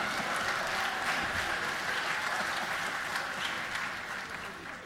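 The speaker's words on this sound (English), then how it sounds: "Somebody started clapping" A legislative chamber audience at the Georgia House of Representatives breaks into steady, dense applause that holds evenly for several seconds before fading slightly at the end, with some faint voices mixed into the clapping.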